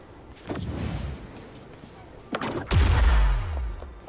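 An explosion blasts open a rock in the video game Wuthering Waves, heard as a sharp boom followed by a deep rumbling roll, with smaller bursts before it and a person talking in between.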